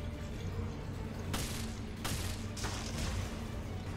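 Gunfire in the Resident Evil: Revelations video game, a few sharp bursts over a constant loud wash of game noise, fairly muffled and low in level.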